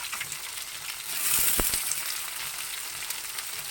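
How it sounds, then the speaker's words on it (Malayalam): Shallots and a little onion fry in hot oil with popped mustard seeds, giving a steady bright sizzle that swells as they go into the pan, with a few soft clinks near the start. "കടു വറുത്തൊക്കെ മൂത്തു ഇനി ഞാൻ കൊച്ചുള്ളി ഇട്ട് കൊടുക്കും"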